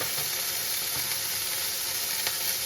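A beef patty sizzles steadily in a hot pan, a close, even hiss of frying with no talk.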